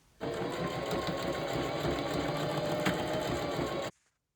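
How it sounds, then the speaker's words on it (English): A sewing machine back stitches a closure onto a mesh dome cap, running in one continuous close whirring burst that stops abruptly. "Put your footer down and you're going to back stitch"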